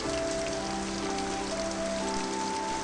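Steady, dense rain falls continuously on a surface, a close and even wash of drops with a faint tonal hum beneath and no voices.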